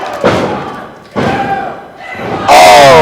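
Crowd cheering at an NBW Squared Circle wrestling match in Sedalia, Missouri, loud roars that come in three swelling waves, each opening with a heavy thud, ending in a sustained surge of noise, with no talking.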